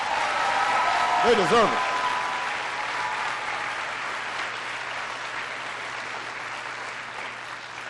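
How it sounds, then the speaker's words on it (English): A school audience gives teachers a big round of applause during the president's education remarks: sustained, broad clapping from a large crowd fills the whole stretch, with a brief voice heard early on. "Give your teachers a big round of applause."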